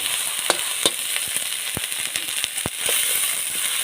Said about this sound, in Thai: ผัดชุดแกงหอมเลยพี่น้อง